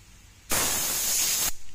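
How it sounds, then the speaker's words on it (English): Airbrush sprays paint onto a nitro RC buggy body in a single burst of about a second, a loud full-pressure hiss that starts and stops abruptly. "So the only thing with this airbrush, I don't have the capability to turn the air down"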